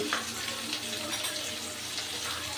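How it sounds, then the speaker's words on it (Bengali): Vegetables for a tilapia curry sauté in hot oil with turmeric, chilli powder and salt, a steady close sizzle and frying hiss running throughout with faint stirring. "এবার সবজির সাথে সব মশলাগুলো আমি ভালো করে কষে নেব।"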